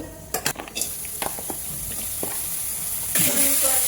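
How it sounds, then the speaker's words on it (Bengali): Chopped ginger, garlic and onion fry in oil in a pan, opening with clattering utensil knocks, then a steady sizzle that swells louder near the end. "একবারে আদা রসুন পেঁয়াজ কুচি সব দিয়েছি, তো একবারে ভেজে নিব।"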